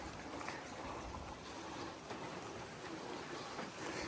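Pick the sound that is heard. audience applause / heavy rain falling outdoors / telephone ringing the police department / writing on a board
heavy rain falling outdoors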